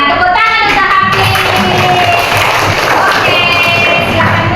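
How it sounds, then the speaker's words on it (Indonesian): A classroom of schoolchildren applauds for a classmate named Hafiz with loud, dense, continuous clapping that stays close and steady throughout. "tepuk tangan untuk Hafiz"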